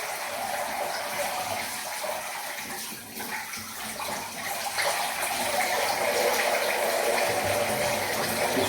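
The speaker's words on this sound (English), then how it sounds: "Just drain off all the liquid first before you make your neutralizing bath" Liquid drains steadily from a large bathtub used for tanning a bear hide, a continuous close rushing, gurgling flow of water that runs without a break throughout, with no talk over it.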